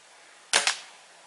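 An air rifle fires at a target, two sharp close cracks in quick succession, each with a short fading tail.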